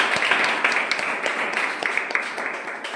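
A classroom of students claps for a presentation, a steady patter of many hands at moderate volume lasting a few seconds with no pauses.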